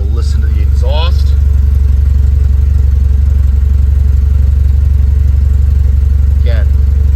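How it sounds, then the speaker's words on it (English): A steady, low idle from the exhaust of a 1973 Alfa Romeo Spider on a cold start rumbles continuously throughout, smooth and even, with a couple of brief higher-pitched clicks or squeaks near the start and end. "We will listen to the exhaust."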